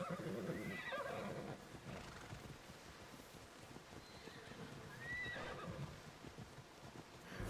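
Horse neighing in the video game Immortals Fenyx Rising, a couple of whinnies over outdoor ambience with faint hoof clops, moderately near and fairly quiet.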